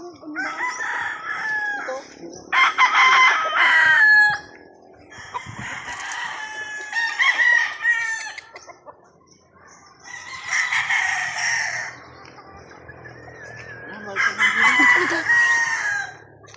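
Several roosters crow back and forth on a breeding farm among other chickens, repeated loud calls from nearby and farther birds filling the air between quieter gaps.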